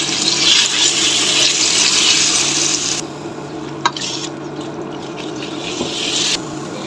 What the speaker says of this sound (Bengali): এরপরে এখানে দিয়ে দেব চিকেন হাড় ছাড়া। হালকা একটু ভেজে নেব।